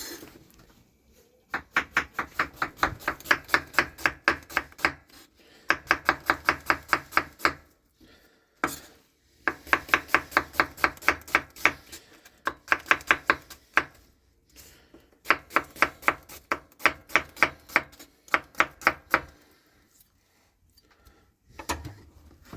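A knife chops onion on a board in a shed, with fast, even bursts of close, crisp strokes separated by short pauses, repeated over about twenty seconds with no talking.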